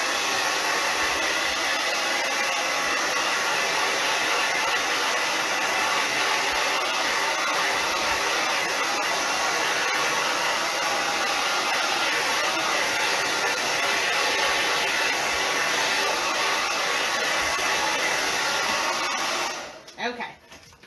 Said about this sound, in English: I'm just going to blow dry this. So it's going to get loud for a second.